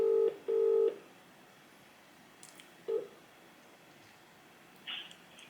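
Telephone keypad tones from dialing a business, with a few short, loud beeps at the start, then a single tone a couple of seconds later, over a quiet line hiss.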